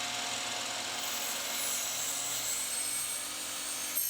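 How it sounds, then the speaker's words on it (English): A saw grinds through a metal pocket hole screw joining two boards of outdoor patio furniture, giving a steady, harsh, high whine that holds for several seconds with no voices. "the sparks you see here are just me cutting through one of the pocket hole screws that was attaching the 2 boards together"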